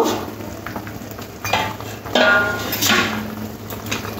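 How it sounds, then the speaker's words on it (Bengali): Fried fish pieces drop into a boiling fish curry broth cooked with papaya, with a few clanks of a utensil against the pot and bursts of bubbling and sizzling that swell and fade nearby. "ঝোলটা ফুটে উঠেছে, ভেজে রাখা মাছগুলো ঝোলের মধ্যে দিয়ে দেব।"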